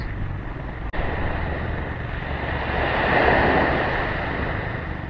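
Waves wash against the shore outdoors while wind buffets the microphone in a steady, broad roar that swells slightly midway, with no talking.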